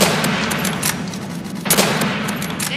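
Rapid bursts of gunfire from an overpowered gun in the Roblox shooter Call of Robloxia, dense and continuous with sharper cracks standing out, loud and close throughout.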